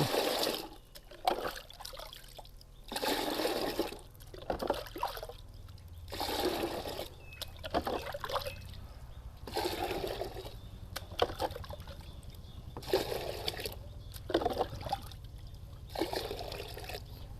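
Water is scooped and poured into a bucket in a steady series of about eight splashing pours, each a second or so long with short gaps between; close and clear, no talking.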